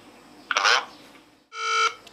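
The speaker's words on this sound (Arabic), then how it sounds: "صوت الجرس عالي جدا، يعني من اكتر الساعات اللي صوتها عالي" Two loud ringtone bursts from an HW22 Plus smartwatch, each under half a second, with a gap between; a bright, harmonic ringing chime, close and clear.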